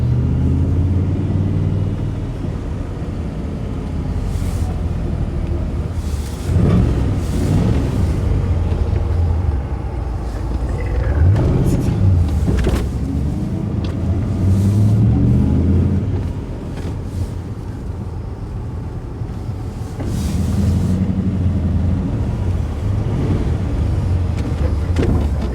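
A 1972 De Tomaso Pantera sports car drives along, its engine rumbling steadily up close, with a few rising revs surging over the continuous cabin drone.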